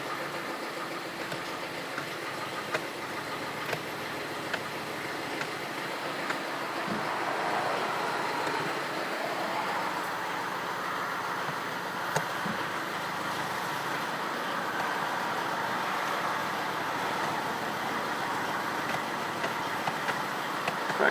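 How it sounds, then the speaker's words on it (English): A car with an AL4 automatic transmission idles steadily with the handbrake on while the gears are run through, a constant low engine drone with a faint whine, close by and without speech. "Handbrake on, start it up. And go through the gears."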